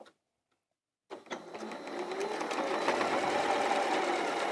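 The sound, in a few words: sewing machine stitching a quarter inch seam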